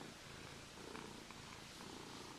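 A cat purrs steadily and softly while its fur is rubbed backwards, a faint continuous rumble close to the microphone.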